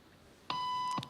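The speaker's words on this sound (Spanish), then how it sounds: "Pitido primero desde la primera entrada." A single clean electronic beep sounds for about half a second, steady in pitch, against a quiet background.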